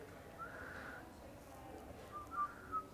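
Faint, breathy whistling in two short tries, a thin wavering tone, then a couple of sharper peeps, close by with low room noise.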